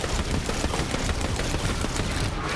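Dense, continuous automatic gunfire with overlapping shots from Borderlands 3 gameplay, loud and busy throughout with no gaps and no voices.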